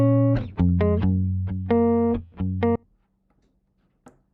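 Plucky guitar sample playing a short run of about ten bright, distorted-sounding plucked notes in an uneven rhythm, then cutting off into near silence with a faint click at the end.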